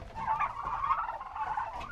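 A cluster of pastured turkeys gobbling and chattering nearby on a farm, a steady murmur of bird calls without talk.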